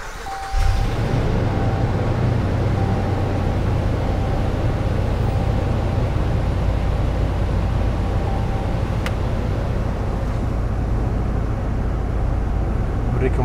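A 2018 Ram or Jeep Wrangler Sport engine catches after a brief starter crank and settles into a loud, steady idle close by, with a faint tone running through the first seconds.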